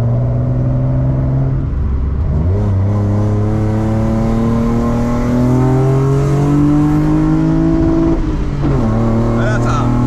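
Strained six-cylinder wail from a BMW E36 325i at full throttle, climbing in pitch, dropping sharply at a gear change, then climbing again with a second shift; someone talks over the engine.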